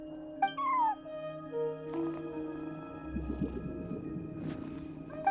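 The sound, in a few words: cat meowing and purring in video game Genshin Impact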